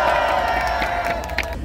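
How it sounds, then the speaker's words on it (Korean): A crowd at a citizens' rally in Daejeon breaks into loud, continuous cheering and applause, a dense close roar that holds steady for the whole stretch. "대전시민대회를 힘찬 박수함성으로"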